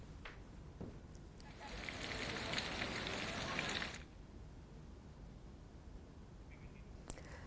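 Heavy downpour in the hilly Sunda Mata area: a hissing wash of rain swells for a couple of seconds, then drops back to a faint, steady patter.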